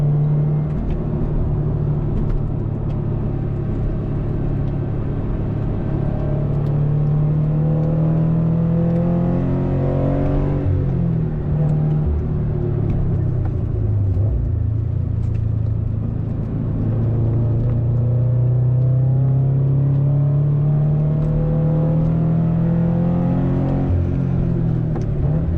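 Track-built first-generation Subaru BRZ accelerating hard on a race track, its engine note climbing steadily through the gears with brief dips at shifts, loud and continuous from inside the car.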